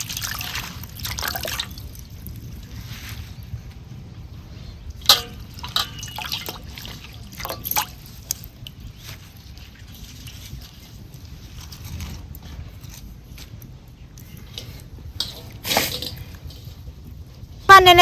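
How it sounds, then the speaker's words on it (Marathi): Leafy vegetables being washed in water in a cooking pot, with intermittent drips, trickles and small splashes over a low steady background, occasional sharper splashes standing out. "पाण्याने आता आपण भाजी धुवून घेतलेली."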